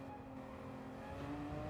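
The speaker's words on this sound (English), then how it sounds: "This is a GT3 RS sound." Porsche GT3 RS engine in a racing video game, heard from the cockpit view: a steady, close engine drone holding a sustained tone that swells slightly toward the end, with no talking.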